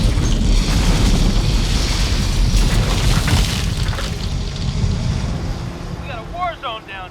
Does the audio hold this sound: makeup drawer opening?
no